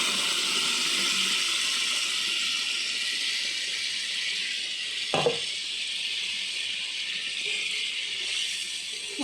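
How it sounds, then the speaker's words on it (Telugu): Water poured into a pan of stuffed eggplant curry sets off a steady, close sizzling hiss that runs throughout, with a few brief clinks and rattles from the pan near the middle and end. "ఆ వాటర్ అనేది యాడ్ చేసేసి వేసేసుకుందామండి"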